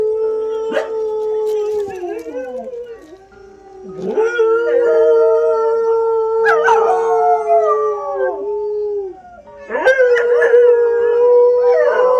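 A dog howls loudly in long, wavering, drawn-out cries. Several howls run back to back with brief gaps between them, and a person speaks in between.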